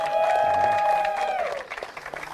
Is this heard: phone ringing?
no